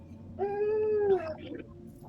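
A dog indoors gives a single drawn-out, tonal whine or yowl lasting under a second, clear and fairly close in a quiet room with no talking.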